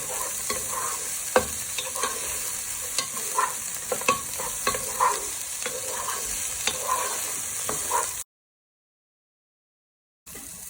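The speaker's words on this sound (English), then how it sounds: "You can already smell the onions starting to cook." Onions fry in a pan with a steady hiss and frequent stirring clicks close by, then a sudden silence of about two seconds before the sizzle resumes.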